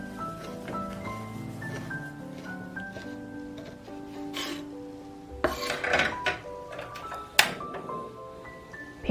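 A kitchen knife roughly chops skinned bacon on a board for carbonara, a handful of sharp irregular knocks coming in a cluster midway, set against soft background music.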